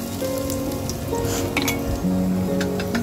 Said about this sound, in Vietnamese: Thì mình cho một ít dầu ăn vô rồi mình cho tỏi vô mình phi.